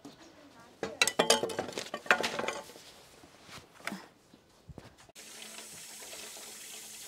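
Water runs from a tap in a rural Chinese home as hands are washed, a bright close splashing stream with a few clinks of dishes, broken by pauses and restarting, while people talk nearby.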